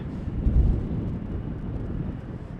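An airliner arriving at Amsterdam Schiphol in strong westerly wind, a low, steady engine rumble mixed with gusty wind noise on the microphone throughout.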